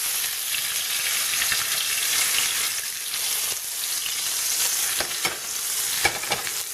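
Ostrich steaks fry in oil in a pan with a steady, bright sizzle and crackle, joined by a few sharper pops and spits as the pan is moved around.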